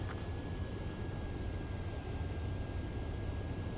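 Steady, distant jet aircraft engine drone from the Ace Combat 7 video game as a plane approaches the runway to land, an even, unbroken roar with no voices.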